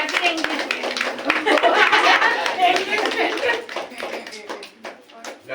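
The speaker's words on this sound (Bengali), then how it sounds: "এই কবিতাটা শুনিনি, সবাই হাততালি দিয়ে দাও।" A small group claps after a poem is recited, a short burst of scattered, uneven hand claps close by, mixed with chatter and a few chuckles.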